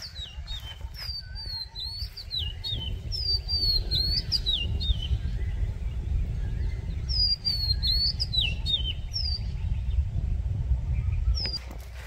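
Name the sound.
oriental magpie-robin (doyel) singing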